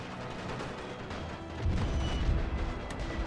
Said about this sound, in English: Cannons, shoot down the machine gun out there.